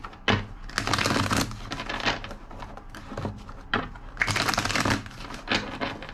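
Repeated rapid riffling and slapping of a deck of tarot cards being shuffled, in several bursts, fairly close and clear with no talking.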